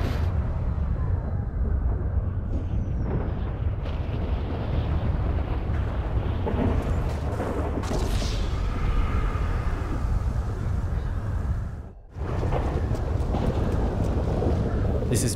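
Steady heavy rain and low rumbling thunder during a UFO invasion over Los Santos in GTA Online, a dense, continuous roar that briefly drops out near the end.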